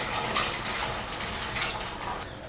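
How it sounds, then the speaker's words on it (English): Yellow noodles are blanched in hot water, with a steady, close wash of splashing and bubbling water that continues throughout. "Place the noodles in hot water and blanch it for about 15 seconds to loosen it."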